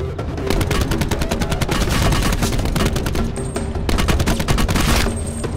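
Dense automatic gunfire in Black Ops 4 Blackout, loud and close, with rapid overlapping bursts and short gaps, and no voices.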